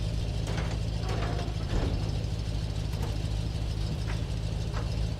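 Engine compartment covers swinging open in Farming Simulator 22, a steady mechanical whir with ratcheting clicks and light clunks over a constant low hum.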